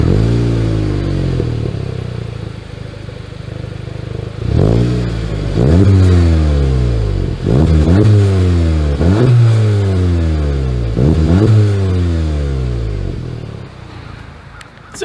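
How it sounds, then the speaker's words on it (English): A 2021 VW Golf GTI engine revs repeatedly through its dual exhaust, loud and close, each blip rising and falling in a steady series of about six pulls after a brief idle. "As always, here is that exhaust clip."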